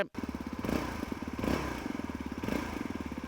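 A Yezdi Adventure motorcycle engine runs at a steady cruising pace in third gear, its low pulsing throb rising and easing slightly as it rides along.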